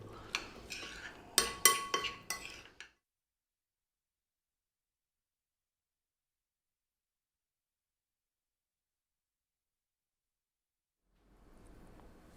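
A spoon scrapes and clatters briefly against a bowl as a bean salad seasoned with salt and pepper is tossed, a few seconds of close, uneven stirring that gives way to silence.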